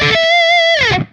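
Electric guitar with a delay effect through a Line 6 Dream Rig, one long distorted sustained note that bends downward and fades out, loud and up close.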